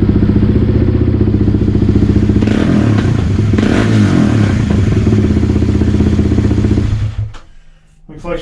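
A 2021 Kawasaki KLX 300R dirt bike with a Pro Circuit T6 full exhaust runs loud and close with a raspy, popping exhaust note, then drops off abruptly near the end before a brief blip.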